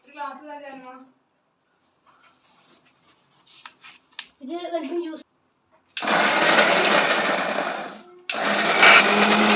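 Tomatoes being blended into a paste in a mixer make a loud, harsh whirring roar that starts after a woman's short spoken lines, runs for about two seconds, stops briefly and starts again.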